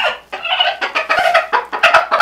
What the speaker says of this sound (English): how the Icelandic chickens have worked out for us over the years